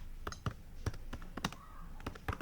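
Keys on a computer keyboard are tapped during HTML coding, producing quiet, irregular clicks in small bursts, close and fairly soft.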